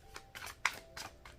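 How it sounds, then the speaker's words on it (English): Shuffling cards: a few soft, quick riffling swishes in a quiet room, faint and close, repeating in short uneven strokes. "Let me shuffle."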